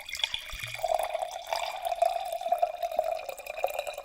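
Villa Di Mare Sangiovese Rubicone red wine pours steadily into a glass, a close, continuous trickling stream with small splashes and a pitch that rises as the glass fills.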